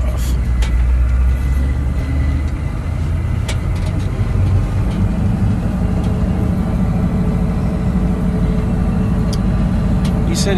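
A log truck idles in a rough driveway with a loud, steady low engine rumble. Occasional clicks and knocks sound over it, and a little talk is in the background.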